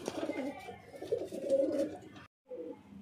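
Pigeons, including blue female and red male birds, cooing close by in a steady throaty chorus of low rolling coos that stops briefly before resuming.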